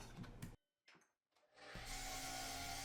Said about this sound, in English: I simply cut the legs down to size on the miter saw.